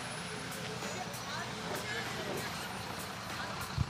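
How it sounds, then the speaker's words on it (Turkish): Heavy-load truck idling in jammed traffic on a road, a steady low engine rumble with broadband traffic noise throughout and a brief louder knock near the end. "Bir tane gördüğünüz gibi ağır yük taşıyan bir tane kamyonet var burada."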